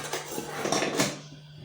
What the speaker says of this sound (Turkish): Ben onun içine bir tane metal kaşık atayım.